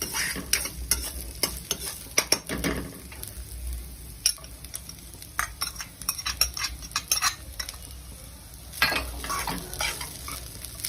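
Corn kernels and shredded cabbage stir-fried in a pan for vegetable spring roll filling: a soft sizzle under repeated scraping strokes and sharp metallic clinks of a spoon against the pan, close and fairly loud, with no talking.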